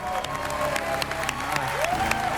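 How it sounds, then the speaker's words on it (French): A studio crowd on a cooking competition show claps and cheers for a guest chef, a short lively burst of applause with shouts mixed in, heard at moderate level. "On applaudit bien fort le chef Ming Tsai."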